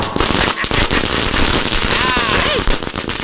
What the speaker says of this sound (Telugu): క్రాకర్స్ కాస్తున్నాను